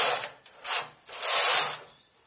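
A hand knitting machine carriage slides across the needle bed to make stitches for a net design, producing three loud, hissing, rasping sweeps, with the last one longest, separated by brief pauses.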